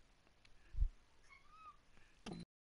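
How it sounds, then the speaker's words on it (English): A cat gives a short meow, faint and thin against quiet room noise, with a soft thump before it and a brief knock near the end. "What's wrong with my cat?"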